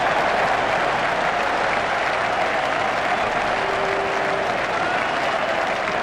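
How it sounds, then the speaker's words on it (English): A cricket crowd at a T20 World Cup match between Scotland and the West Indies applauds a big shot, with loud, sustained clapping and cheering that fills the stadium throughout. "Crowd were brought to their feet by that shot."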